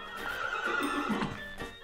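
A horse in Minecraft whinnies once in a drawn-out, wavering neigh with a faint clip-clop beneath, lasting nearly two seconds and sounding moderately close with no talk over it.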